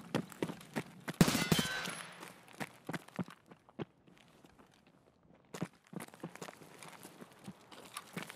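Scattered gunshots in an Escape From Tarkov raid on Customs, including suppressed AK fire, pop as sharp isolated cracks at an irregular pace, with one louder burst early on and otherwise fairly quiet stretches between shots.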